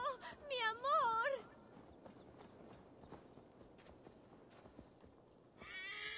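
Horse in Assassin's Creed Valhalla gives a loud, wavering whinny near the start, followed by quiet hoof and ambient game sounds, with another call rising at the end.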